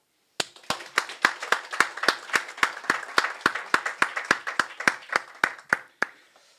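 An audience claps steadily, with sharp, evenly spaced hand claps that sound like a small group close by, keeping the same pace for several seconds and then stopping.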